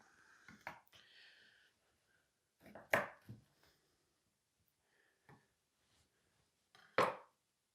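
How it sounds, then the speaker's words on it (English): A knife cutting through a whole chicken on a board, sparse sharp chops and taps with brief scraping, close and isolated in a quiet kitchen. "with the heel of the knife, just nip the end off just to neaten it up"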